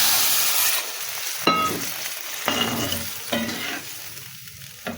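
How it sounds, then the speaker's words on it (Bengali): Figs frying in a pan with chilli, a steady broadband sizzle broken by a few louder stirring scrapes of a utensil against the pan, close and continuous with no talk. "সুন্দর করে ভেজে নেব আমি ডুমোরটা সুন্দর করে ভেজে নিলাম"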